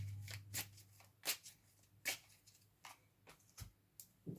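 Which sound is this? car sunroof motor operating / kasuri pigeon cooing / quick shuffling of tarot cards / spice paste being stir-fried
quick shuffling of tarot cards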